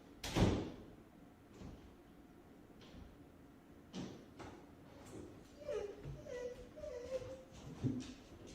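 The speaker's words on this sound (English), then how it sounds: "And look at the way the door opens." A door opens in a house while a frightened dog is nearby: a sharp thump at the start, then quieter knocks, creaks and scrapes scattered through the clip.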